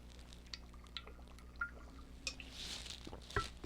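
Water is poured and drips into a glass at a quiet crafting table, with soft trickles, small clinks and scattered drops over low room hiss.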